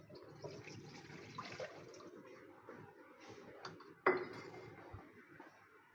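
Two and a half glasses of water go into a karahi over a lit flame in a home kitchen, a steady watery splash with metal clatter and one sharp clank partway through.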